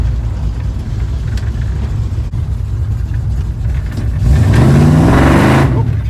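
A car with a Holley carburetor accelerates hard, a loud steady engine drone rising into a surging rev with a climbing pitch and rushing roar as the tires spin.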